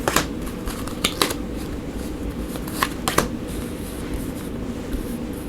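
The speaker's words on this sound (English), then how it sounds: "we'll also pull some more cards here from the tea leaf here" Tarot cards are shuffled and pulled by hand close up, with quick bursts of riffling and snapping card sounds separated by softer sliding and handling, no talking.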